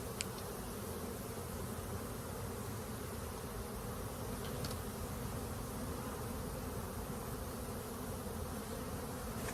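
Honey bees buzzing at an open hive, a steady, dense swarm drone filling the whole stretch with no pauses, fairly close and continuous.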